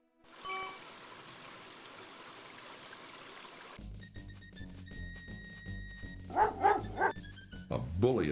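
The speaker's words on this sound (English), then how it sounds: "A bully of a dog terrorizes the poor ants as he playfully digs at their large anthill." A cartoonish dog in King's Quest 5 barks and digs at a large anthill. A trickling game ambience comes first, then repeated yappy barks and scrabbling cut in over synthesized music near the end.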